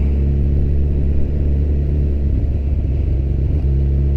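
A Suzuki GSX-R 1000 motorcycle rides through town with a loud, steady low engine rumble and strong harmonic drone, brief throttle changes rising and settling over a few seconds.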